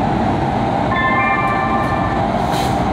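A Los Angeles Metro C Line train runs loud and close with a constant rumble and roar, while a thin, sustained squeal rises over it partway through.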